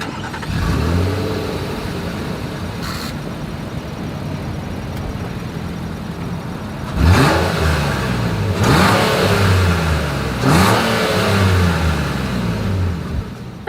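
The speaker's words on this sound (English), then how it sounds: "As always, here is that exhaust clip." Exhaust of a 2023 Nissan Pathfinder at idle, then three sharp throttle blips that rev the engine up and let it fall back, loud and close with no voices.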